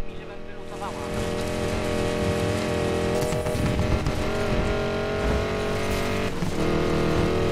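A Corvette off-road car driving in the video game Need for Speed Payback, its engine roaring loud and continuous throughout with shifting revs.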